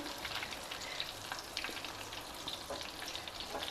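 Chili bajjis, battered green chilies for Hyderabadi cut mirchi, deep frying in hot oil: a continuous close crackling sizzle with scattered sharp pops and bubbling, steady and moderately quiet with no talk.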